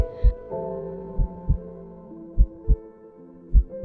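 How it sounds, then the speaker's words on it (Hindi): Deep, thudding heartbeats pulse in slow pairs over a low, steady hum, with no other sounds. "उसकी हार्ट बीट जोर जोर से धड़कने लगती है"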